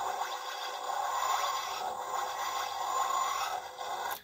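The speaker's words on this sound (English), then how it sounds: "this is the sound of the TARDIS landing." Toy Doctor Who TARDIS sounding its landing effect: a dense, steady electronic whooshing drone with a faint pulsing swell, loud and close, cutting off abruptly at the end.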